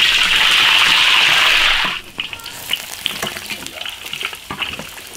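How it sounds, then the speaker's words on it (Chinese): Pork sizzles loudly in hot oil in an iron wok for red-braised pork, a dense bright crackle that drops abruptly to lighter spitting, stirring and clinks, with nobody speaking. "把这个肉多炸一下，把这个油全部给它炸了出来。"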